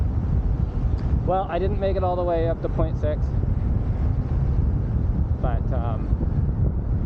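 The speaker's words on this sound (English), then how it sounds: "it's actually really windy all of a sudden." Strong wind on a mountain road buffets the microphone in a steady, loud roar, with someone talking over it.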